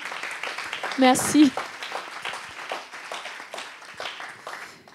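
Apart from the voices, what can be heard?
audience applause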